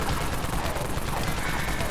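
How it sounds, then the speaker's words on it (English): Sustained rapid gunfire from the Wraith Cannon, an unlimited heavy weapon in the online zombie shooter Dead Frontier, firing as a dense, continuous roar of overlapping shots throughout with no pauses. "Okay, here's the unlimited Wraith Cannon."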